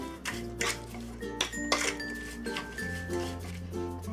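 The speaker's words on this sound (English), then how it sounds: "seasoning salt here, and some white pepper, and some sesame oil. Give this a good mix." Soft clinks and scraping as sliced fish marinated with seasoning salt, white pepper and sesame oil is mixed in a bowl, a few light utensil-on-dish taps against a quiet kitchen background.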